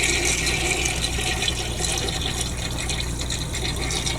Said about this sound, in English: Vintage Flushing